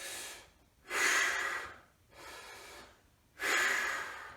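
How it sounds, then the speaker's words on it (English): A person breathes in and out forcefully while simulating the bench press movement during form and technique coaching, with two strong sharp exhales and a softer breath between them, close and clear with no talk. "remember, breathing"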